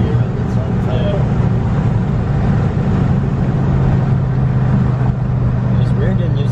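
BMW E34 540i V8 cruising in fifth gear with a short shifter fitted, a steady low engine drone and road rumble filling the cabin without pause.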